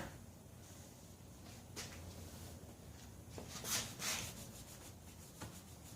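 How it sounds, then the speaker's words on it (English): Wax rubbed by hand onto freshly polished chrome of a barn-find Honda Gold Wing GL1200 Aspencade motorcycle, a soft continuous rubbing with a few brief louder swipes, close and quiet with no talking. "We can wax this chrome that we polished a minute ago."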